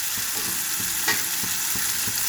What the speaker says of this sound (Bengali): এবারে নাড়াচাড়া করছি, যেন না পুড়ে যায়